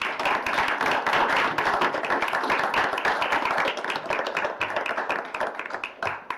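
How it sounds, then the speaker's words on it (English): Applause from the audience at a school board meeting, steady dense clapping that fills the room for the whole stretch and thins slightly toward the end. "I would like for us to give Mr. Showalter a round of applause for this very distinguished honor that he received."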